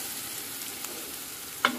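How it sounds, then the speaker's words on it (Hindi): Steady, soft sizzling of onions frying in hot oil with spices, with a small clink near the end. "अब मैं इसमें डालूंगी प्याज"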